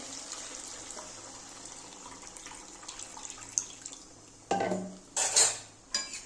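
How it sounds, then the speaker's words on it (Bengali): Water added to a frying spice masala in a pan for a fish-head curry, a low, quiet sizzle with light stirring, then abrupt bursts of splashing and clattering toward the end. "এবার আমি একটু জল দিয়ে দেবো।"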